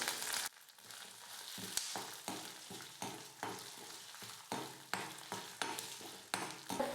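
Urad dal fries in hot oil with dried red chillies and garlic cloves being stirred in for a thuvayal, a steady close sizzle broken by regular scraping strokes of a spoon against the pan.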